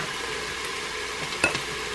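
Ground 80-20 pork sizzles and fries in a pot while being broken up, a steady soft crackle with one brief sharper scrape of a utensil near the end.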